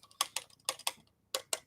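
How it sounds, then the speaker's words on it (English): Sharp, close mouse clicks come in quick pairs, three double-clicks separated by brief pauses in an otherwise quiet room. "Oh, yeah, clicking sound."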